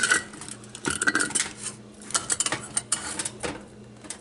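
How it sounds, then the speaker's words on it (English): Glass canning jars of pecans lifted out of an oven and fitted with lids, sharp close clinks, taps and rattles of glass and metal coming in irregular bursts over a quiet background. "The next step is to take them out. And then put the lid on."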